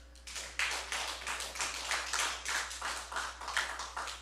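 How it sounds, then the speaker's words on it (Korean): A church congregation claps together in praise to God at an evening revival service, a loud unified rhythm of repeated group claps for about four seconds over a constant low hum. "하나님께 영광의 박수 올리겠습니다"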